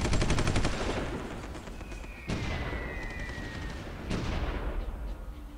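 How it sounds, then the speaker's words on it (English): Wartime gunfire effects from the strategy game Supreme Ruler 1936, with rapid bursts of shots giving way to sporadic reports and a couple of sharp booms, continuous and moderately loud with no talking. "There's a few new sound effects as well when they're at war."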